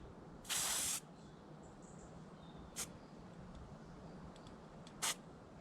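An aerosol can sprays light coats of paint onto windscreen wiper arms, one half-second hiss followed by two much shorter puffs, close and clear over a quiet background.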